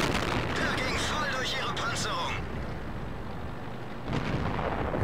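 A tank gun fires in World of Tanks from a Rhm.-Borsig Waffenträger tank destroyer hidden behind rocks and bushes, giving a heavy boom followed by a fading rumble. A second blast comes near the end.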